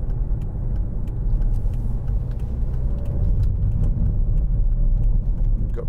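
Steady, close road and engine rumble from a 2011 Volvo V50 1.6 D2 R-Design diesel estate car on the move, a continuous low drone with no talk.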